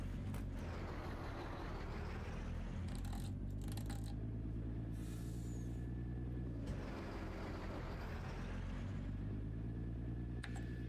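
A heavy truck engine in Farming Simulator 19 rumbles steadily with a deep, continuous drone, shifting briefly in pitch as it revs, close and dominant throughout.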